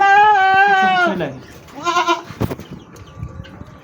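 A goat held for grooming gives a loud, close, wavering bleat, then a shorter second bleat, followed by rustling and someone talking softly.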